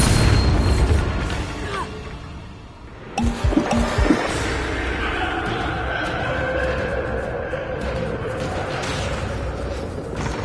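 A Bombarda explosion spell in Hogwarts Legacy, a sudden heavy boom with crumbling debris bursts, followed by a lingering rumble and ambient game sound.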